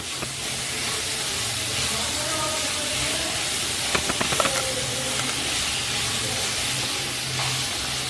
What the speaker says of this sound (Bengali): এবার সব কিছু ভালো করে আবার ভেজে নেব।